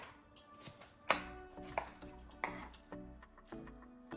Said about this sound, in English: So we're gonna cut these in small pieces